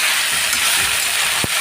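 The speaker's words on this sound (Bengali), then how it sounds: "এইদিকে সবজিগুলো হালকা ভাজা হয়ে গেছে" Peas and onion leaves frying in a hot wok (kadai) for prawn fried rice, a steady, even sizzle that holds at one level throughout, with a brief low knock near the end.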